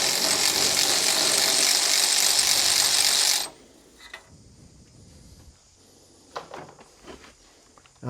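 A hand ratchet removing short-reach spark plugs from an old VW fire truck engine clicks in a fast, continuous burst up close, then stops, leaving a few scattered clicks and handling noises.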